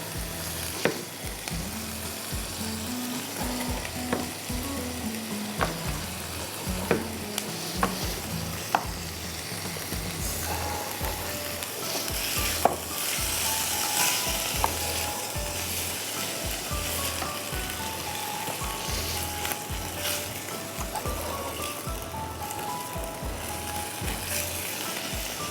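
Small chicken breast cubes sizzle and fry in a hot pan for an extended stretch, with steady crackling, occasional utensil clicks and stirring scrapes up close, no talking.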